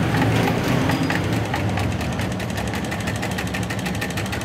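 A sewing machine stitches jersey fabric up close, giving a steady rapid mechanical whirr with fast regular needle ticks for several seconds, no voices over it.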